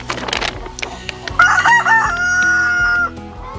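Backyard laying hens cluck in short bursts, then a rooster crows loudly and close, its long call rising and holding before trailing off.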